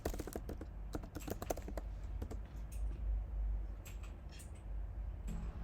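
Keys clatter in a quick run of typing on a computer keyboard, then thin out to a few scattered clicks over a low steady room hum.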